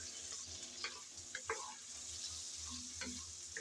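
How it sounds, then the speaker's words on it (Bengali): Vegetables for khichuri sizzle in a pan while a spoon stirs them, giving a soft continuous hiss broken by a few scraping strokes, close but fairly quiet, with no talk. "সবজি দিয়ে নেড়ে চেড়ে আবারও ভালো করে ভেজে নিতে হবে।"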